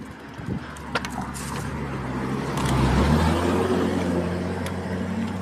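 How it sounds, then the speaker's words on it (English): A car engine labours up a steep uphill road, a low steady drone that swells louder around the middle and holds, with some light outdoor noise on top. "You can hear from the car engine sound that it is really steep, right?"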